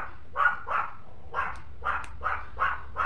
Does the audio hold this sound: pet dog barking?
yes